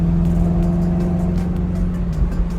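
A Ferrari 360 drives just after a major service, with a steady low engine note and a faint whine, close and fairly loud, with no talking.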